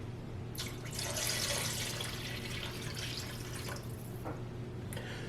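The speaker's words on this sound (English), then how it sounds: "And I'm going to add 4 cups of water." Water pours into a slow cooker for bean soup, a steady splashing stream that runs for several seconds, then tapers off into a few last trickles and drips.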